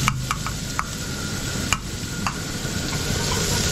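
Garlic and onion fry in cooking oil with a steady sizzling hiss, punctuated by several sharp clicks and scrapes from stirring, all fairly close and moderately loud.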